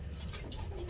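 A racing pigeon gives a soft, low coo, a single brief call heard faintly against a quiet background.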